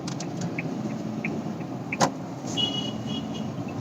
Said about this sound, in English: So driving the Nissan Magnite, the initial feel is that this engine is surprisingly very responsive and eager to rev as well.